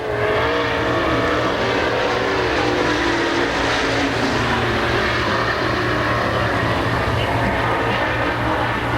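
Renegade dirt race car with a Rocket chassis and Melkwood engine roaring around the Pennsylvania Motor Speedway dirt track, a loud, steady sustained engine drone with shifting pitch and constant crowd-level rumble throughout.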